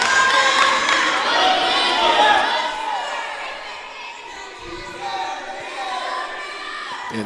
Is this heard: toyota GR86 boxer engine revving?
no